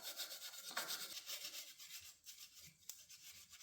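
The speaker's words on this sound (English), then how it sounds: "use just a little bit of Scotch-Brite and just scratch the area that has those remaining pieces, and it will come right off" Scotch-Brite pad scrubbing leftover gasket residue off a 2007–2008 Honda CBR 600 clutch cover, a soft, quiet, continuous rubbing rasp heard close up.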